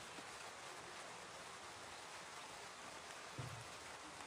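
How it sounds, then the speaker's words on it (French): Light rain falls outdoors as a steady, soft, even hiss of drops with one dull low thump partway through and no voices. "il pleut un peu long"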